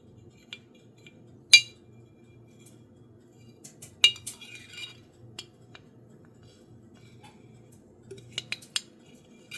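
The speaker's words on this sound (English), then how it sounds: "I heat up my spoon a little bit in my tea" A heated metal spoon clinks against a cup of tea in a few sharp, bright taps, spaced irregularly, with one louder strike early and a small cluster near the end over a quiet, faint hum.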